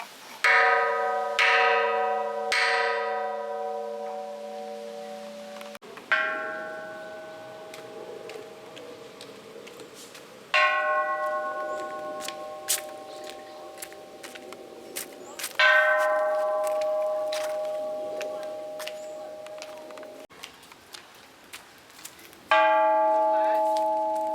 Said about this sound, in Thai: แล้วเราก็ตีระฆังเพื่อความเป็นสิริมงคลนะคะ